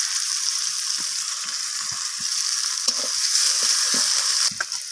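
Chopped onions fry in a pan with a continuous, even sizzle, punctuated by occasional soft knocks of a spoon stirring; close and steady with no talking.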